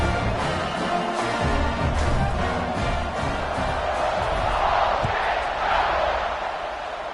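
A stadium crowd at a college football game roars after a scoring drive, with a broad, sustained wash of cheering and shouting that swells and holds steady throughout.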